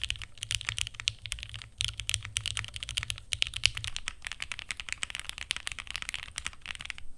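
Steady, fast typing clacks on a plateless Thera75 75% mechanical keyboard, dense and close with a low hum underneath for the first half.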